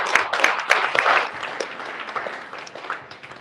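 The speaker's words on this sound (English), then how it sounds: "A round of applause." Audience at a crypto fireside chat event applauding, a dense wash of clapping that starts strong and gradually thins out over a few seconds.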